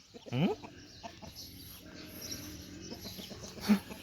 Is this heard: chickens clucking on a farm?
yes